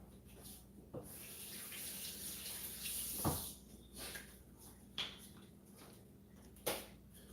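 A kitchen tap runs steadily into a sink while something is rinsed out during Mongolian beef prep, a soft continuous splashing with a few louder knocks and clunks of the item being handled.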